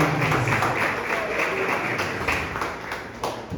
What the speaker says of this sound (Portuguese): Isso, muito obrigado pelas palmas.